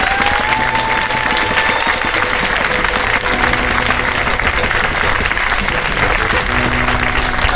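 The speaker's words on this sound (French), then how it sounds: "Alors on peut les applaudir." Audience applause at a parish end-of-year pastoral celebration in the Val d'Orge area, steady and sustained clapping from a sizeable crowd, with faint voices mixed beneath.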